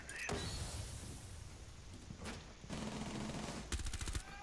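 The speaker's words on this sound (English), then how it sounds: "A fuse is being mounted on a window." A Fuze cluster charge being mounted on a window in Rainbow Six Siege: a continuous whirring mechanical drone with bursts of rapid rattling, close and loud, without talk.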